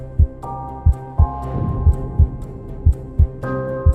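A heartbeat sound effect thumps in steady, pounding double beats against a droning low hum and swelling tones, loud and close with no voices.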